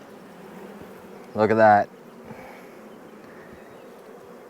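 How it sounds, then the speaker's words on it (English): Honeybees in a struggling hive give off a low, steady buzz that runs throughout, close by, briefly interrupted by a short spoken comment. "there's a lot of bees in here, and we can actually save them, save this colony if we act correctly"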